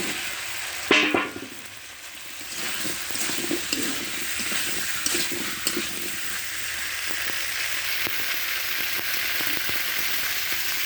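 Washed potatoes tipped into cooked-down spice masala for a live magur fish and potato curry, giving a sudden splash then steady frying sizzle with occasional stirring scrapes.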